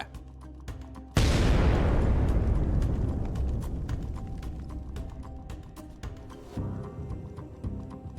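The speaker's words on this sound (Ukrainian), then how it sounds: "Після влучання російська машина вибухнула а разом з нею здетонував і боєкомплект БМП" A Russian infantry fighting vehicle explodes with its ammunition detonating: a single huge blast erupts suddenly and rolls into a long, rumbling roar of burning and crackling that slowly fades, with scattered pops continuing afterward.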